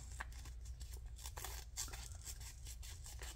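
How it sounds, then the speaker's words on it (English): The small scissors of a Roxon M4 mini multi-tool snip through a couple of stacked sheets of paper, a rapid series of faint crisp cuts heard close up over a low background hum. "see how the scissors work to cut paper"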